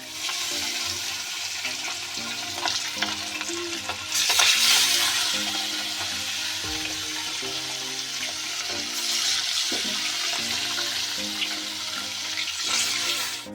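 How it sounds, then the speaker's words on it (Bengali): Pieces of rohu fish fry in hot oil with a steady close sizzle and crackle, swelling louder for a moment as more pieces go in, over faint background music and no talk. "তেল দেওয়া হয়ে গেছে, গরম হয়ে গেছে। এবার মাছগুলি এক এক করে আমি ছেড়ে"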